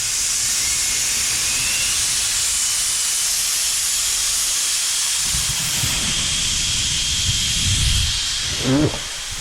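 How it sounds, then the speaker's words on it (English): An air compressor vents a loud, continuous hiss of escaping air for several seconds, with a lower rumbling thump and rattling near the end. "Let's blow the air out."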